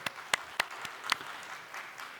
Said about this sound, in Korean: 하나님께 영광의 박수 드릴까요?